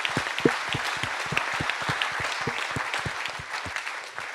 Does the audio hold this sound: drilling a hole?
no